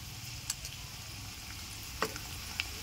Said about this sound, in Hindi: प्याज हल्का सा फ्राई हो गया है और अभी हम इसमें लहसुन और अदरक की पेस्ट ऐड कर रहे हैं, ताकि ये बिल्कुल बराबर फ्राई हो